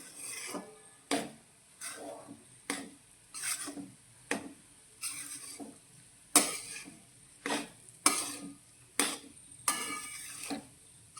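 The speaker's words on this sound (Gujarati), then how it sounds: "અત્યારે આપણે થોડા ઓછા ઘીમાં જ આ લોટને શેકવાનો છે" Gram flour roasting in ghee for mohanthal, stirred with a spatula in regular scraping strokes roughly once a second, soft and close against a quiet background.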